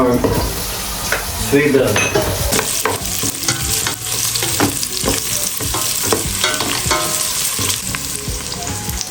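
Ginger and onion sautéing in a pan, a loud close sizzle with repeated clanks and scrapes of a spatula stirring, and a voice speaking briefly near the start.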